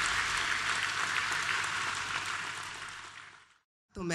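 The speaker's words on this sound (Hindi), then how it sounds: "जोरदार तालियां हो जाएं प्लीज आपकी।" Audience applause at an opening ceremony, dense clapping from a crowd that holds steady, then fades out to silence before a short burst returns at the end.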